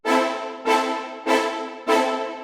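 Four first-inversion piano chords struck in a steady rhythm, each decaying before the next, with no voices.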